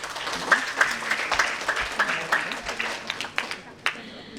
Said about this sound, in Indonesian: Boleh kita tepuk tangan dulu?